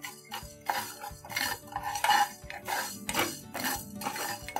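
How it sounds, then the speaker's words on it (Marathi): Fenugreek seeds and cumin being dry roasted in a pan for guava pickle masala, with repeated scraping and clinking of a spoon stirring against metal in an irregular rhythm. "थोडेसे मेथी दाणे हे आपण थोडेफार भाजून घेऊया, म्हणजे ते चांगले ग्राइंड होतील।"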